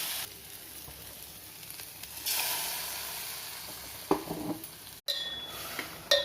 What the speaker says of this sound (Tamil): ஃப்ரெஷ்ஷாக அரைச்ச மசாலாவை இதில் சேர்த்து நல்லா வதக்கிக்கலாம்